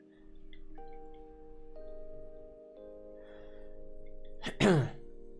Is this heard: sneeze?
yes